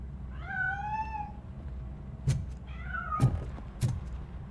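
A cat meows several times in RoboCop: Rogue City, clear drawn-out calls separated by short gaps, with a few sharp thuds or knocks between them in a quiet game scene.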